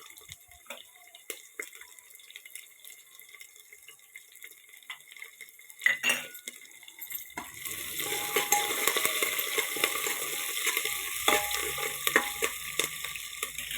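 Tempering spices, dry red chillies, green chillies, curry leaves and onions fry in oil for a potato curry: a few quiet clinks and drips, then a loud, steady sizzle with stirring from about halfway.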